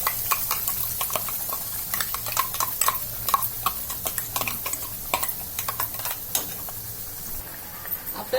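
Ground masala paste fries in oil for misal pav, a steady sizzle with constant scraping and clinking of a spoon stirring in the pan, close and continuous.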